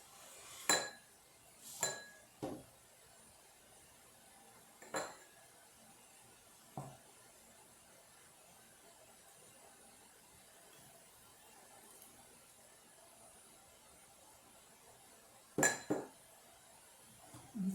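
While a peanut butter bread mixture is moved into another bowl, bowls and utensils clink sharply, with several quick knocks early on, a few spaced taps, then a double clink near the end, all against a quiet room.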